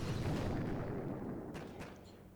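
An artillery barrage in the mobile strategy game Boom Beach lands as a heavy rumbling blast that slowly fades, followed by a couple of sharper impacts.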